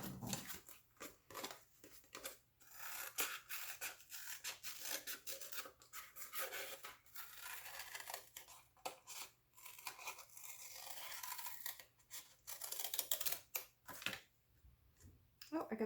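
Scissors cut a heart shape from a juice pouch, producing close, crisp snips and rustling crinkles in an uneven series, with soft pauses between cuts and occasional handling noise.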